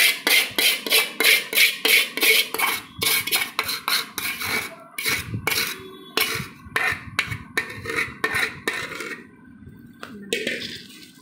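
Boondi being stirred into sugar syrup in a metal pot gives a rhythmic run of scraping, clanking strokes of a spoon against the pot, close and fairly loud, steady at first and then more irregular.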